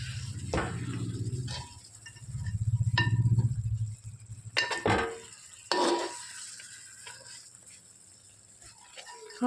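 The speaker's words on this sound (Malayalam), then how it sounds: "ഇളക്കി കൊടുക്കാം." A spoon scrapes and clinks against a pan of simmering chicken curry in bursts, with soft bubbling and quiet gaps between strokes, close and fairly quiet.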